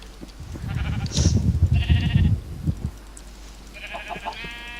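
Sheep in Minecraft 1.5.2 survival mode bleat several times in close succession, loud and near, with no talk over them.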